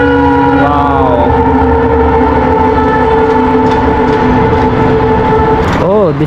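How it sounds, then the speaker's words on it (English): A fast train rushes past in Ahmedabad, very loud and close, with a sustained blaring horn and a rushing rumble that bends in pitch, and a voice rising briefly at the end. "You can see, oh my god, this train going on very fast."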